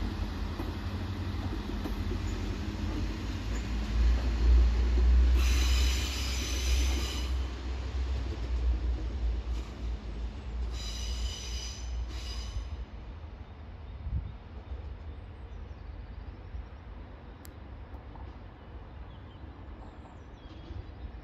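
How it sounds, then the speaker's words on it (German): A LINT railcar rolls slowly across the track field outside Gießen station in Germany, giving a long steady rumble with clattering wheels and intermittent high wheel squeals, heard from a moderate distance without speech. "Anmutig schiebt er sich übers Gleisvorfeld."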